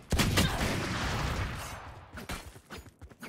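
Burst of gunfire in the tactical shooter Valorant during a college gaming club match, a loud volley of shots at the start fading into a rumbling tail with a few sharper cracks near the end.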